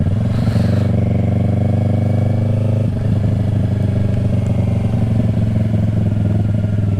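A 2020 Yamaha R3 motorcycle being ridden, its engine droning loud and steady at close range with a shift in pitch partway through and a constant rush of wind.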